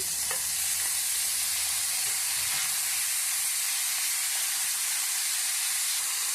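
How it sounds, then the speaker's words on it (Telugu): Tomato pieces sauté on high flame for dondakaya pachadi, a loud steady sizzle and hiss filling the whole stretch with faint stirring scrapes underneath. "ఇలా తిప్పుకుంటూ గోల్డెన్ కలర్ వచ్చేంత వరకు మగ్గించుకోవాలి"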